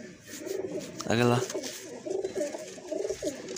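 Pigeons cooing in a loft of mohar-marked birds, a few soft, low rounded coos repeating through the stretch, with a brief louder warbling call near the start and people talking nearby.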